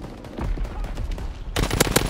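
Gunshots in Call of Duty WW2, a dense burst of rapid automatic fire that swells louder and sharper near the end, close and continuous with no talking.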